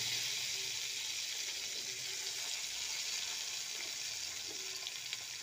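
Tomatoes dropped into hot oil in a pan for a fish curry give a steady, faint hissing sizzle that continues evenly throughout, with no talking.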